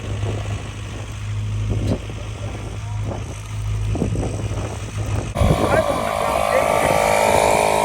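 A 1971 Chevrolet K10 pickup with a 350 V8 and three-on-the-tree manual, left sitting over 30 years, rumbles low and steady, then catches with a sudden jump in level and keeps running loudly, with people talking over it.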